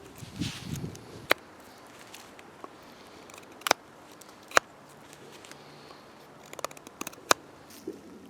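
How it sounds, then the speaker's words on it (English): A machete chops a notch into a hard live-wood stake: sharp, isolated cracking strikes spaced irregularly, a handful of distinct close hits with faint rustling between. "Now I need to cut a notch into here."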